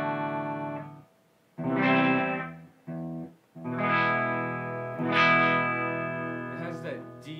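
Gibson Les Paul Studio electric guitar, mic'd up, playing a few clean, mellow but punchy chords and notes with short gaps between them, up close, with a voice talking at times.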